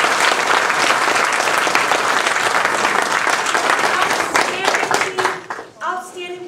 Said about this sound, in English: So let's please give the Northwest area governors a round of applause.